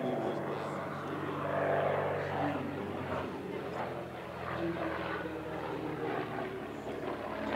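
An early-production SIAI-Marchetti SF.260 propeller aircraft performs aerobatics at the Midlands Air Festival, its engine droning steadily and fairly loud throughout, swelling slightly as it passes, with a faint voice underneath.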